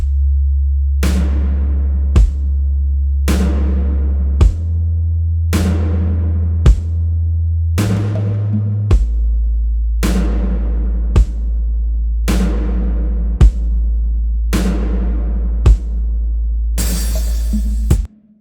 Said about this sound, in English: So I added a sine bass, which is like an electronic sub bass, mixed in with some simple drums